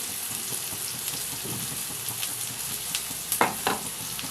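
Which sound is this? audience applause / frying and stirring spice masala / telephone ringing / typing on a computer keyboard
frying and stirring spice masala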